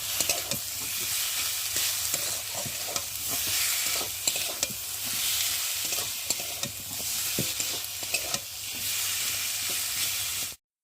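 Spice masala for a rohu fish curry being fried and stirred in a pan: a continuous close sizzle broken by frequent scraping and knocking of the spoon, with no voices.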